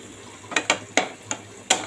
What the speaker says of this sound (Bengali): তো এই যে আমি এগুলো সুন্দর করে ভেজে নিচ্ছি।